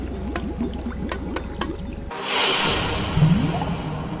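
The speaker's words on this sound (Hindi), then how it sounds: "शंभू ने जो थोड़ा सा पानी बचा था वो सब पी लिया।" Cartoon sound effect of someone gulping down the last bit of water: a short whooshing, pouring liquid swish that swells midway and then trails off, heard alone without talk.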